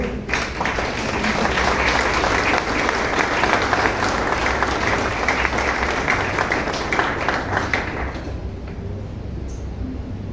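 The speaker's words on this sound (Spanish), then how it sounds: "Vamos a dar un aplauso al Señor." A church congregation applauds together, a steady, dense wash of many hands clapping close by for about eight seconds before it fades out.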